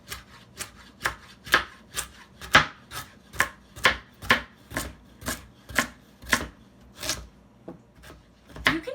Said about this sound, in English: And we'll chop up this carrot and add it to our onions.